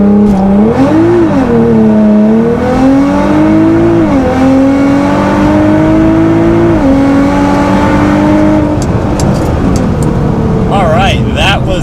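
A Nissan GT-R launches hard from a standstill using launch control, its engine roaring loudly through rising and shifting revs close by, then easing off as it settles.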